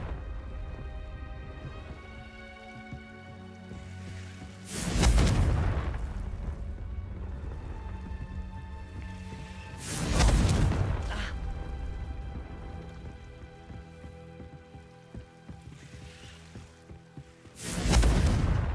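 Three loud explosive blasts from the Confringo fire spell in Hogwarts Legacy, each a broad booming burst with a decaying tail, spaced about five to seven seconds apart over a steady game music bed.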